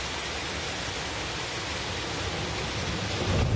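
Floodwater rushes through the town of Estepa in Seville, a dense, steady roar of broadband noise like heavy pouring water, loud and unbroken throughout.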